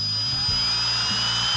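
An electric drill spins the oil pump of a 1971 'Cuda engine to prime it, giving a loud, close, steady whine whose pitch dips several times as the load rises, with no talk.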